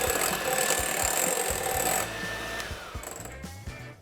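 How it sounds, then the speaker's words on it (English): Eggs whites and sugar whipped toward stiff peaks for brown sugar pavlova, a steady dense whirr of an electric whisk running close and loud for about two seconds, then dropping to a softer, uneven mechanical hum. "I'm then going to whisk them back up to this stiff peak before I add the next tablespoon of sugar."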